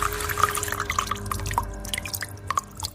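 A tap drips and runs into a sink, with close, irregular bright plinks and splashes over a low watery background, heard as a story sound effect with no voices.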